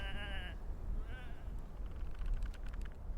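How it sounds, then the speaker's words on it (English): Video game sheep bleat twice in short wavering calls, separated by a pause, over a low rumbling ambient background that continues afterward with faint clicks. "Come on, these are just sheep."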